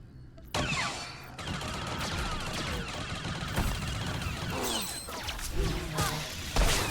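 Rapid gunfire from headshots in the Star Wars: The Old Republic video game, a dense run of sharp repeated shots and impacts over busy game noise, loud and close throughout.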